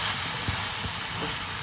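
Kuzhambu powder frying and being stirred in hot oil, a soft continuous sizzle with a few faint scraping stir strokes.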